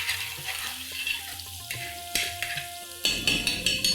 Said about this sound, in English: Now we cook the gravy for 4 to 5 minutes.